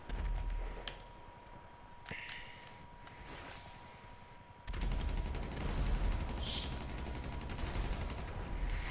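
Gunfire during a police standoff in Grand Theft Auto, with scattered single shots early on, then a sustained, dense rattle of rapid automatic fire that stays loud and close to the end.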